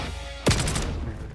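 A single sharp gunshot burst in a ranked hardpoint match of a multiplayer shooter, one loud crack followed by a short ringing tail under game ambience.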